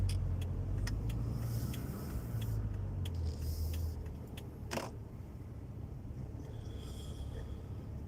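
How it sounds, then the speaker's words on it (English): A car drives along a one-way city street, its steady low engine and tyre rumble close and continuous, with faint clicks and a short sharp noise midway through. "People's car coming straight at me on a one-way street."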